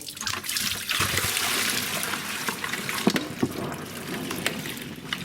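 Sanitizer water pours and trickles steadily out of a brewing vessel into a bowl, a continuous close splashing stream with occasional drips and louder splashes.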